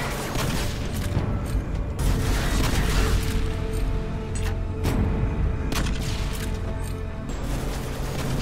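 Thumper grenade launcher rounds go off as dull booms and crashes in Modern Warfare 2 Spec Ops, mixed with mechanical clatter and steady game noise; several heavy impacts land across the stretch with no talking.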